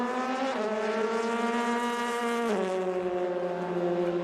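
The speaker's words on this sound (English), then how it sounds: "Love race cars that sound like race cars. It's a good sounding one." An Oreca-chassis race car at Le Mans screams past up close, its engine note holding a loud, clear pitch before dropping sharply on an upshift and continuing at full volume.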